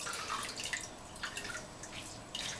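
Salt water drains off freshly made cheese in a pan, a busy run of close, bright drips and small splashes patters steadily throughout, with no talking.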